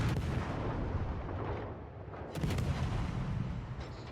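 Warship main guns firing in the naval video game World of Warships Legends, a loud booming salvo with rumbling broadband blasts, a brief lull, then another heavy volley.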